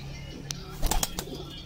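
Breeder pigeons in a loft give soft, close coos with a few short fluttering bursts in the middle, against a low steady background hum.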